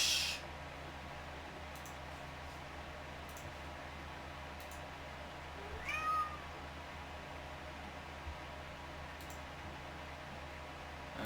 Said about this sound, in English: Let me kick my cat out real quick.